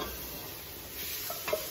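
Dry spices cooking in a pan for chilli con carne, a soft steady sizzle with light stirring and a brief scrape near the end, close and alone.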